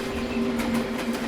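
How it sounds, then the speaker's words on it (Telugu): A train passes nearby with a steady low rumble, a droning hum and faint rhythmic clatter, heard indoors, close and continuous. "పక్కన ఏమైనా ట్రైన్ వెళ్తుందా?"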